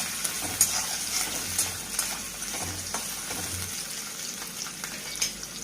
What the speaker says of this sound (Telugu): ఇవి కొంచెం ఫ్రై అవనిచ్చి దీంట్లో ఉల్లిపాయ వేసుకున్నామండి.